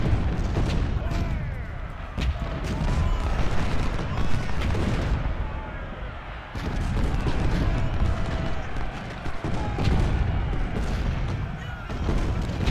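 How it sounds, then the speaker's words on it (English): Civil War cannon batteries booming across the Gettysburg battlefield in Ultimate General: Civil War, repeated heavy shots and rumbling blasts over a dense battle din, with faint voices at times. "he's going to start falling under my artillery fire"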